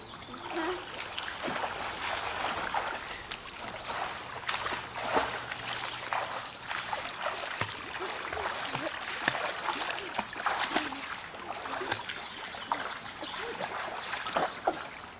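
A child swims and splashes in water, with steady splashing and trickling throughout, and adults' voices are heard talking nearby over the water.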